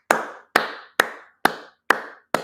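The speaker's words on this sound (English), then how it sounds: "Round of applause, everybody." Six sharp, evenly spaced claps, each a crisp close slap with a short decay, sounding like a single person's deliberate round of applause during a livestream; no voices.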